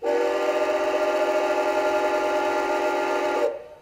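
A single long model train whistle toot, from a Bachmann diecast NYC Hudson locomotive, holds steady and bright for over three seconds, then stops abruptly, close and fairly loud.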